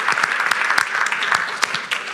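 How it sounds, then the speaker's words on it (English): A conference audience applauds at the close of a panel discussion, with dense, steady clapping from many hands, fairly loud and continuous throughout. "One big applause and very much thank you for today."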